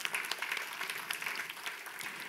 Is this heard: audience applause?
yes